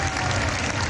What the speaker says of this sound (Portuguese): Só os aplausos rompiam o silêncio.